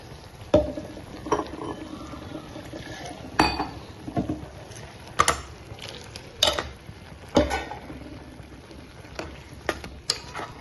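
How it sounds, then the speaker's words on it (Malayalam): A spoon stirs soybean kurma in a pot after ground coconut and cashew paste go in, giving irregular metallic scrapes and clinks against the vessel over a soft simmering sizzle. "ഇളക്കി കൊടുക്കാം"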